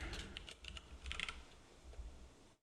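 Rapid typing on a computer keyboard in a quiet room, a steady run of close, crisp key clicks that stops abruptly near the end.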